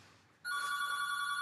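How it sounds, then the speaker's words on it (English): A phone rings in the background, starting abruptly partway through with a steady electronic ringtone tone that holds to the end, moderately loud in a quiet room with no talking. "sorry, that's my phone in the background."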